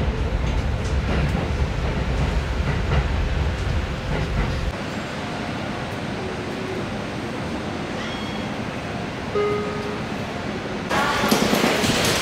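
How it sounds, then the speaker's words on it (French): A train ride in Japan: steady low rumble and rolling noise inside a moving carriage, with faint squeals and a shift in the hum partway through, then a brighter rush of noise near the end. "Allez, let's go, on va prendre le train."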